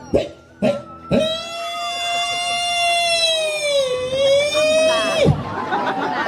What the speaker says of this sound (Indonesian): Ambulan beliwat.